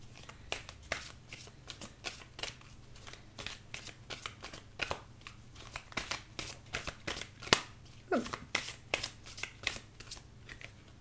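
An oracle card deck, The Journey of Love, being shuffled by hand, with rapid repeated riffling snaps and flicks in an irregular rhythm, close and clear with a quiet background.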